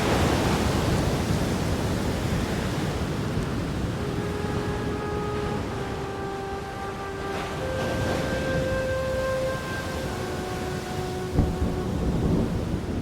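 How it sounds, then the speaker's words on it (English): Steady heavy rain roars with deep thunder rumbling beneath it on the edge of a full-blown tropical cyclone over the sea off Christmas Island, while sustained tones drift over the storm's noise. "Christmas Island has caught the edge of a full-blown tropical cyclone."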